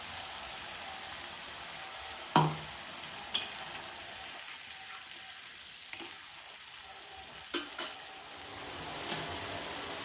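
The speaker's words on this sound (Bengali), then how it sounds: "মশলা মশলাগুলোকে ভালো করে কষিয়ে নেব" Spices sizzle quietly in a pan for a fish curry with potatoes, a soft steady frying hiss broken by a few sharp clinks and scrapes of stirring, without talk.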